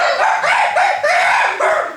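A dog barks three times in quick succession during a World War II radio Christmas stage show, loud, close yips with short gaps between them and no speech over them.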